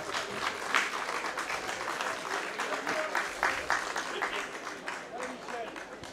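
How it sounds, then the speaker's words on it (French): Spectators at a pétanque tête-à-tête match clap in sustained applause, a dense wash of hands that fades gradually, while a commentator talks over it. "on va encore les applaudir bien bien fort"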